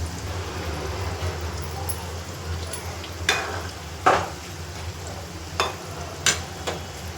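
Shankarpali, a crisp Maharashtrian snack of maida dough, frying in hot oil in a large batch: a steady, fairly loud bubbling sizzle throughout, broken by a few sharp clinks and scrapes of a utensil stirring the pan.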